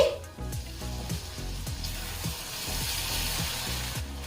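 Tomatoes cook in a pan just uncovered, giving a continuous close sizzle and bubbling with faint scraping, loud and steady throughout.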